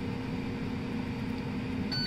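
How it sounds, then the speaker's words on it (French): A Ninja Dual Zone air fryer hums steadily as it finishes cooking fries and andouillettes, then gives a short electronic beep at the end as it stops. "Simultanément, elle s'arrête, elle bip."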